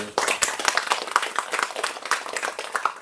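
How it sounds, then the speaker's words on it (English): A small crowd claps together in brisk, continuous applause lasting a few seconds, close and moderately loud. "Nice round of applause for"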